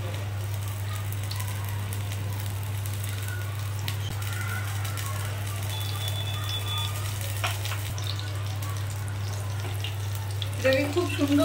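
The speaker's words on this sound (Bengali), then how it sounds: "আমি লেগ পিসটাকে ভাজতে একদম তেলের মধ্যে দিয়ে দিলাম।" Chicken leg pieces fry in oil with a soft, continuous crackling sizzle over a steady low electrical hum, fairly quiet and unbroken, with a brief clatter near the end.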